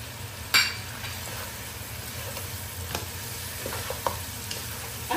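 Mutton karahi with tomatoes frying in a pan, a continuous sizzle broken by a sharp utensil clink near the start and a few lighter stirring knocks, no talking.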